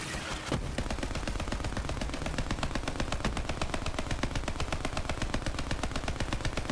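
Rapid, continuous automatic gunfire from a Borderlands 3 video game firefight, loud and close, with shots rattling in a steady fast rhythm for the whole stretch after a brief opening blast.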